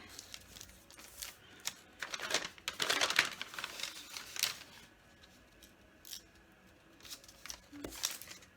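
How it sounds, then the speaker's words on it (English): Scissors cut paper being made into grab bags, giving a series of crisp snips and crinkles at close range, bunched in the middle and sparser toward the end, with no talking. "So you're just going to cut down the center like so."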